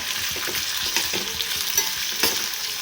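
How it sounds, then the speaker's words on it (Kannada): Potatoes fry in oil in a pan with a constant close sizzle and soft, irregular stirring clicks. No one speaks. "ಇದು ಗೋಲ್ಡನ್ ಬ್ರೌನ್ ಬರೋವರೆಗೂ ನೀಟಾಗಿ ಫ್ರೈ ಮಾಡ್ಕೋಬೇಕು"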